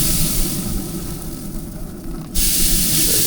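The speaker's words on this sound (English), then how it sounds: "I'm going to go ahead and spray it with a little apple cider vinegar." Apple cider vinegar misted from a spray bottle onto a brisket flat on a Pit Boss pellet smoker: a steady close hiss of spraying, with a brighter, louder burst of spray near the end.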